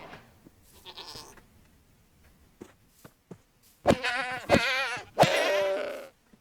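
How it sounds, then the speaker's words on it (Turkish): Several loud, wavering bleats burst out in quick succession after a stretch of quiet clicks and faint thuds, a goat bleating up close in a video game. "Keçi abi ya."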